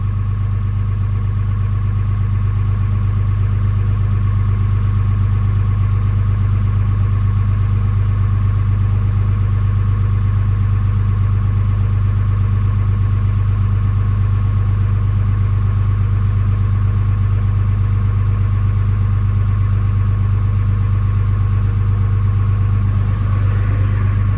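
A steady, rumbling diesel engine of a Dodge Ram with a Cummins 5.9 idles at a fast, even high idle, a constant low drone with no talking, continuous throughout.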